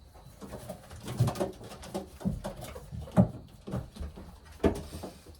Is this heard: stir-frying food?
no